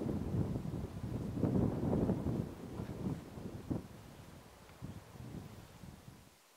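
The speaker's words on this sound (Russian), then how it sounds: "Подул порывистый ветер, резко похолодало." Gusty wind blows in the open, roaring in uneven surges that swell and fade as it buffets the microphone, with no voices present.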